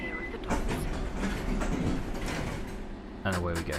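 A London Underground train in London Underground Simulator rumbles and clanks on the track as it departs, with mechanical clicks and a hiss of doors, and a voice speaks briefly near the end.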